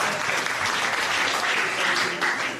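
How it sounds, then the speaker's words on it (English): A crowd claps steadily in a brief, dense round of applause at the Arc of Attrition 2022 awards ceremony for an endurance running race. "that deserves a round of applause as well."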